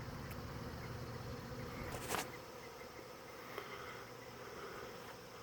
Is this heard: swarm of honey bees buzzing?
yes